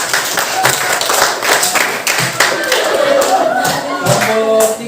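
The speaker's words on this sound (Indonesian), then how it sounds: "Kasih tepuk tangan dulu untuk kelompok 3" Classroom clapping for a student group, a busy patter of many hands with scattered taps and thuds, steady throughout and mixed with overlapping talk and chatter.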